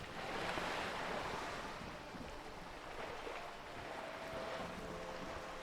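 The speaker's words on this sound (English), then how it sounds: "The wind flaps the sail above her." Wind in a seaside scene from the video game Disco Elysium, a sail flapping overhead with a steady rush of wind and surf-like noise, continuous and moderately loud, with a faint tonal hum in the background.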